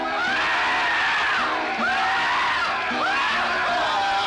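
Screaming from the 1964 horror film Two Thousand Maniacs: repeated shrill, wavering screams over a dense, noisy film soundtrack.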